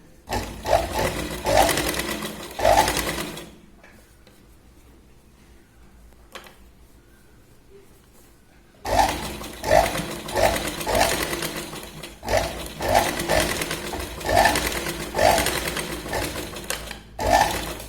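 A sewing machine stitches a Katori blouse in bursts of rapid mechanical whirring and clatter, with a long quiet pause between a first run and a second longer run of stitching.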